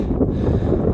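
Steady wind rushes and buffets the microphone on an exposed, cold, damp Scottish mountain summit with a cairn in the Highlands, a low continuous roar without pauses.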